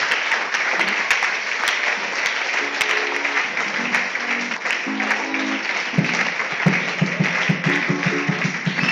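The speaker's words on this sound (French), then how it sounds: "Donne une acclamation qui ouvre le ciel." A church congregation applauds and cheers loudly and continuously, dense clapping with shouts and voices mixed throughout, and brief tonal sounds rising through the middle and end.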